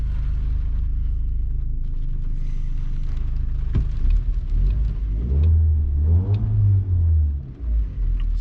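A VW Golf MK5 engine with a fuel pressure regulator fault revs up in several swells from idle, loud and close, the pitch rising and falling with each blip before settling back.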